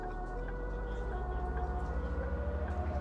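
Ambulance siren in the driving game Bus Simulator 16, a steady loud wail with layered harmonic tones over a low rumbling engine drone, continuous throughout.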